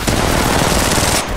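Rapid automatic gunfire from the mobile shooter game Apex Legends Mobile, a dense, loud burst of shots filling the brief moment before cutting off.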